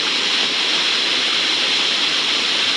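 Steady, loud roar of a waterfall pouring among cliffs in a mountain canyon, a dense continuous rush of falling water with no breaks and no voices.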